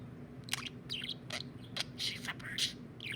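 A pet budgie chirping and chattering up close, a quick run of short bright tweets and warbles over a low indoor hum.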